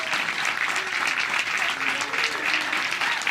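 A crowd at Cedarvale Lanes bowling alley in Eagan applauds during a televised PWBA match, dense sustained clapping throughout with a commentator's voice faintly underneath.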